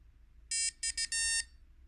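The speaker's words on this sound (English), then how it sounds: "We get a beep and a little musical note, shows we have sound" A short electronic beep from a Game Child handheld video game at startup, followed by a few quick synthesized tones, clear and close against a quiet background.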